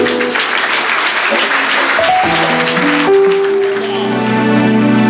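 A church congregation applauding and cheering for Jesus, a dense wash of clapping and voices with sustained sung or shouted tones rising over it, loud and close throughout.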